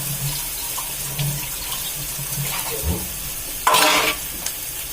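Cumin seeds, onion and ginger fry in hot oil for a dry ridge gourd curry, a steady close sizzle broken by stirring scrapes and a louder splashy burst of spitting oil.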